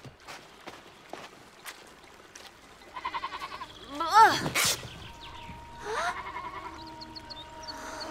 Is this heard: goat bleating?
yes